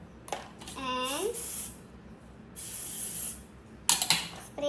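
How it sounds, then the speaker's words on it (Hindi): Hair spray hisses out of an aerosol can in two long bursts while a woman's hairstyling session for a wedding or engagement look goes on, with a voice and brief speech around the sprays. "स्प्रे करेंगे"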